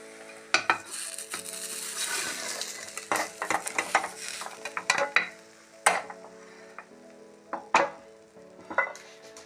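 Egg and pasta frying in a pan for breakfast, with a soft sizzle under repeated sharp clinks and scrapes of a utensil stirring against the pan, close and intermittent.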